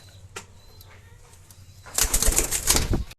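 A Pakistani-blood pigeon gives a few soft coos, then bursts into a loud, close flurry of wing flapping for about a second before it stops abruptly.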